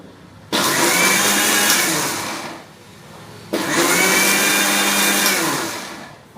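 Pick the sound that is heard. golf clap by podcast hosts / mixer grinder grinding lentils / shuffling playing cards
mixer grinder grinding lentils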